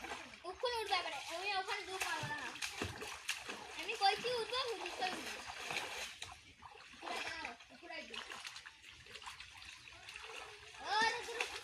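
Someone bathes and splashes in dirty, stagnant water, with irregular wet splashes and trickles running under almost constant chatter, including a voice.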